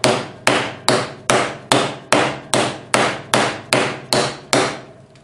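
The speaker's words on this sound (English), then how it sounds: "This is a dead blow hammer. It doesn't bounce." A dead blow hammer pounds an aircraft elevator horn being formed, twelve loud, evenly spaced whacks, each a sharp crack trailing into a short fading ring, alone without talk.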